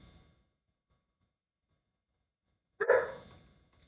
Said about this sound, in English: I hear my dog upstairs